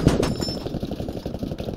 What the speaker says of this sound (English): Take that guy out who's shooting that machine gun, he's damaging us bad.